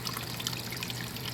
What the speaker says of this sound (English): So the water runs underneath our dog funnel there. You can see it flowing on down.